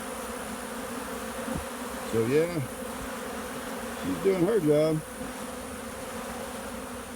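Honeybees drone steadily in an open hive box, a constant close hum underneath someone speaking in short bursts.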